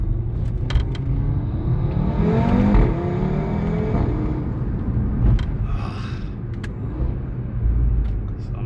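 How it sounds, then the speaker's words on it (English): A 2017 Audi RS3 8V2 with a 400 hp engine and S-tronic gearbox, without a particulate filter, rumbles steadily from the exhaust while driving, with a swelling rev partway through and a continuous low drone. A voice talks over it. "Man, this car just sounds amazing."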